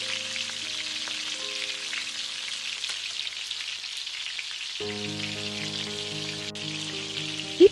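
Spices sautéing in a pan for a Tamil prawn curry give off a steady, close frying sizzle throughout, with no talking.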